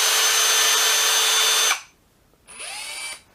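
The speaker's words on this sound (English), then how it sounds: "spin the drill." A power drill spins its disassembled chuck with a loud, steady high whine, stops briefly, then runs again for a shorter burst, spinning up in pitch.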